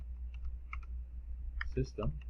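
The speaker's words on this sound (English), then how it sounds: "So I'm going to type in system." Code is typed on a computer keyboard as a quick, fairly faint run of key clicks, with a soft voice underneath and a low steady hum behind it.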